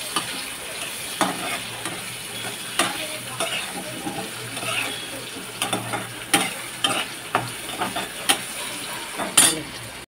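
Spices fry to a deep red in a pan with a soft, steady sizzle, while a spoon scrapes and stirs and knocks against the metal in irregular taps and clinks, close by and fairly quiet.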